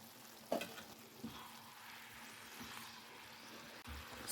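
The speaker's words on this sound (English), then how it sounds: "Cover and cook for a few minutes." Bengali-style mixed vegetables with spinach sizzle gently in a covered pan, a soft, steady frying hiss with a few small pops and no voices.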